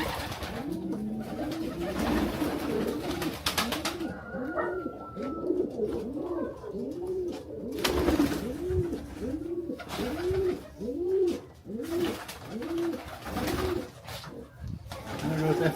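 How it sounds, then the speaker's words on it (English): Pigeons coo in a repeated, rhythmic series of soft rolling calls, close and clear, with brief background noises in between. "I hope folks can hear the pigeons"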